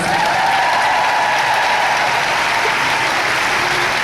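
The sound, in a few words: audience applause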